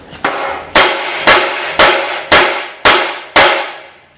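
A hammer bashes a stuck crank on a Ferguson bicycle with seven loud, evenly spaced metallic strikes, each ringing briefly before the next.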